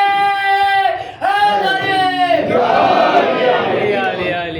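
A crowd chants together in loud, drawn-out unison shouts, one call swelling into a roaring collective response.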